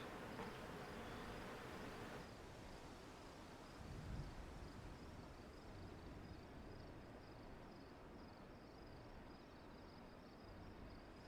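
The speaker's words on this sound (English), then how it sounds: "Dude, the cricket sounds are really nice." Crickets chirp in Final Fantasy XIV's nighttime ambience, a faint, steady high-pitched pulsing over a soft background hiss, distant and continuous.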